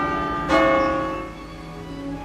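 Church bells ring out from the tower of a large French church, one strong struck tone blooming into a sustained humming resonance that slowly fades, no voices present.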